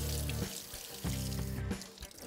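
Egg being rinsed under a running kitchen tap, a steady close splash of water hitting the shell and the sink, lasting the whole moment with slight surges and no talking.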